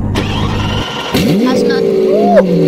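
A Lamborghini Veneno in a video game fires up with a sharp starter crank, then the engine catches and revs with a rising, falling roar that stays loud and close.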